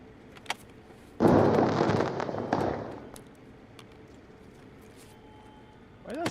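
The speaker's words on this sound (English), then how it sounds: "Why does that sound like a firework?" A loud, crackling firework-like explosion goes off in the Escape From Tarkov video game. It is a sudden sharp blast that rumbles for about two seconds, then fades into quiet game ambience.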